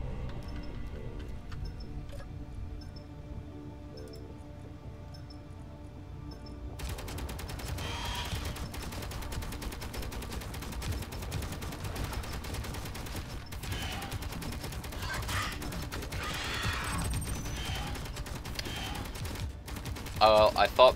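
Turrets firing in the space game Space Engineers, rapid crackling bursts of automatic gunfire that start after a quiet stretch and continue as a dense, fairly faint barrage until the end.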